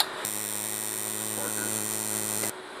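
A TIG welder running on DC, pedal pressed, gives a steady loud electrical buzz and hum that starts abruptly, holds evenly for about two seconds and cuts off sharply, with no talk.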